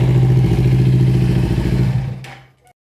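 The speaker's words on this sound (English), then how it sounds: "it seems that the custom exhaust is quite a bit louder" A Kawasaki Ninja motorcycle with a custom exhaust rumbles loudly with a deep throaty exhaust idle in a closed room, then shuts off and fades to silence with a brief click.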